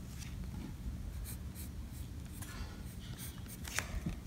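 Colored pencil scratching across paper while a brown layer is laid down, a continuous soft, dry scraping with steady back-and-forth strokes, close and alone.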